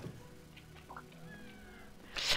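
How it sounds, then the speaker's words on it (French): A cat meows in the Coral Island farming video game, a few short soft calls spread across the moment and then a louder burst near the end, heard without any talk. "Et là, il y a encore un petit chat."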